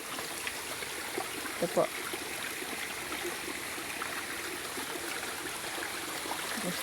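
A small creek flows steadily in an outdoor area, a continuous broadband rush and trickle of water heard close by, with a few short spoken words over it.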